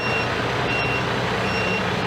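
A fire engine idles in a residential courtyard, a loud, unbroken engine drone filling the space, with faint thin tonal beeps riding above the rumble.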